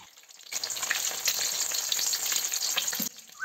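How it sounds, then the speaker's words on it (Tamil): Two eggs cracked into hot oil erupt into a loud, close, bubbling sizzle that holds for about two and a half seconds before settling, with no speech. "இப்போ அதில் ரெண்டு முட்டையை உடச்சி ஊற்றிக்கலாம்."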